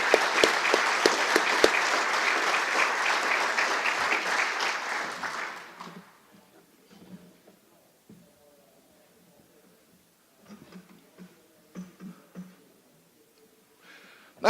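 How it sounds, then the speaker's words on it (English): Loud, dense applause from an audience honoring sheriff's office staff at an awards event, lasting about six seconds before fading out to near quiet with faint scattered noises. "let's give them some applause"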